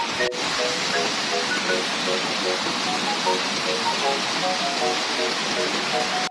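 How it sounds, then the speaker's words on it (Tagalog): Heavy rain pours in a steady, dense hiss, with faint tonal sounds drifting through the downpour. "Lakas na ng ulan, hindi ako makauwi."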